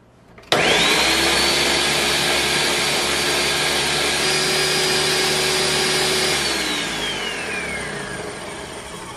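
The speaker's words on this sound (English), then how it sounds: "Okay, I'm going to put it in my blender." A kitchen blender purees room-temperature Greek lemon soup (avgolemono). It starts abruptly and runs as a loud, steady, high whirring roar for several seconds, then winds down toward the end.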